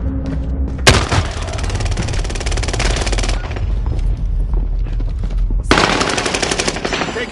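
Rapid automatic gunfire in the shooter game Warzone, two dense bursts of loud, close machine-gun shots separated by a brief lull, with heavy rumbling low end throughout.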